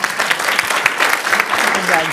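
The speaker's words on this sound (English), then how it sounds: "join me in another round of applause" A crowd claps steadily and warmly, a dense patter of many hands with a few voices faintly mixed in.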